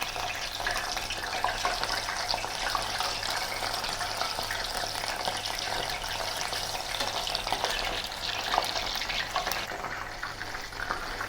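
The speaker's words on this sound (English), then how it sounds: "I'm going to deep fry the shrimp twice." Shrimp bubble and crackle in deep hot oil, a dense, steady frying sizzle that continues without pause throughout.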